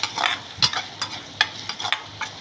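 A spoon stirs turmeric into a drumstick and tomato curry in a pan, giving a quick series of close scraping strokes over a soft sizzle.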